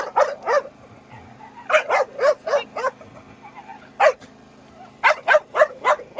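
A small dog barks repeatedly in quick bursts of two to four yips, pausing between volleys, fairly close and loud.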